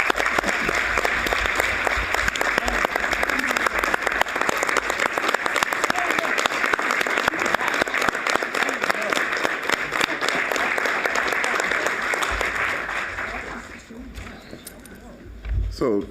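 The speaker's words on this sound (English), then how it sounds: "Can I please get a round of applause?" At a board of trustees meeting, a room of attendees gives a steady, full round of applause for a scholarship announcement, lasting around fourteen seconds before tapering off, with a voice resuming at the end.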